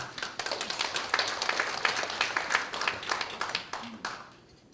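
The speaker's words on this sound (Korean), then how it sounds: "김덕균 교수님께도 박수 한번 보여주십시오" An audience gives a round of applause for lecturer Professor Kim Deok-gyun before a lecture, brisk steady clapping that tapers off toward the end.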